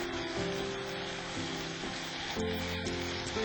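Whole spices and dal frying in a pan, a steady close sizzle running throughout with no talk.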